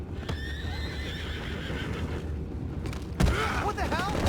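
Horses whinny and neigh in the distance in the game Red Dead Redemption 2, over a steady low rumble, with a louder burst of activity and hoofbeats near the end.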